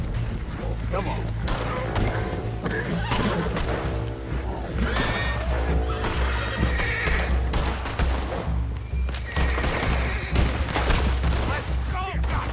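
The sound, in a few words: horses neighing and galloping in Red Dead Redemption 2 video game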